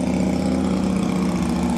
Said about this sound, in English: Don't mind that motorcycle.